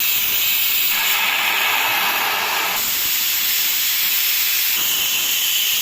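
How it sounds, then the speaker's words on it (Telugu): A pressure cooker cooking lentils on a stove vents steam with a loud, continuous hiss that swells and eases slightly over several seconds, close and unbroken. "ఇప్పుడు స్టవ్ ఆన్ చేసి కుక్కర్ పెట్టుకుంటున్నానండి. ఒక 3 విజిల్స్ వచ్చేంత వరకు వెయిట్ చేద్దాం."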